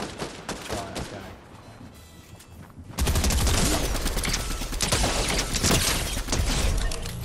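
Sustained automatic fire from the MK7 rifle in a video game, a dense continuous burst of rapid shots that erupts loudly after a quieter stretch of scattered gunfire and battle noise, with occasional talk under it.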